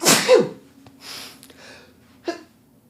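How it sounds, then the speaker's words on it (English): A single loud, close human sneeze bursts out at the start, followed by a quieter breathy exhale and a short sharp sniff or snort near the end. "This sneeze right now"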